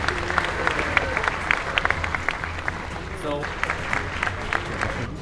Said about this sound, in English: we just want to give a round of applause to all the hackers who have won